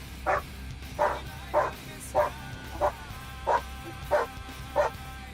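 Dogs barking outdoors, puppies and big dogs together, sounding as eight evenly spaced barks about every 0.6 seconds at moderate distance over a steady low background hum.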